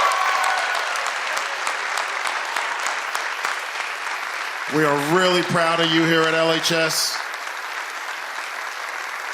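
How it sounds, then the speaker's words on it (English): Sustained audience applause for the valedictorian at a high school senior awards ceremony, a steady dense wash of clapping throughout, with someone speaking over it and a brief musical tone midway. "Give her a round of applause"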